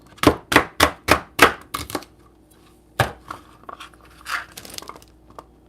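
Celery stalks being chopped on a cutting board while prepping smoothie bags: a quick run of about six crisp, crunchy knife strokes, then a pause and a few scattered chops and rustles, close and clear with no talking.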